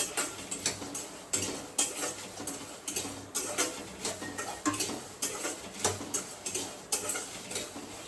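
Green mung bean seeds dry roasting in a pan with no oil, a steady run of light clinks and rattles as they are stirred and tossed, close and moderately loud with a regular scraping rhythm.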